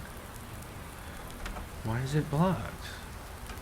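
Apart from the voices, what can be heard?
rain falling on a farm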